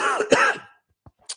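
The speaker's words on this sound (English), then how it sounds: "I apologize for coughing." A person coughs and clears their throat, one harsh rasping burst up close followed by a couple of small throaty catches and a short breath, no words.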